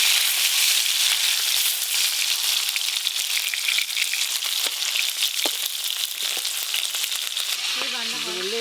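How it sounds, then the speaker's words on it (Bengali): River fish fry in hot oil in a continuous, loud, close crackling sizzle with scattered pops throughout, ending with a brief fluttering tone at the very end. "তাড়াতাড়ি মাছ ভাজা হয়ে যাচ্ছে।"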